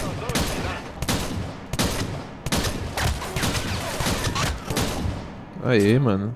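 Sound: gunfire in video game Splinter Cell Blacklist

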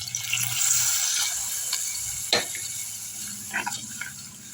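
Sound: pouring water into cooking pot

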